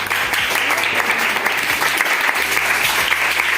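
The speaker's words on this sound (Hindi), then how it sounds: "तालियां बजा दो एक बार" Sustained applause from a classroom of students, steady dense clapping filling the whole stretch at close range with no talk over it.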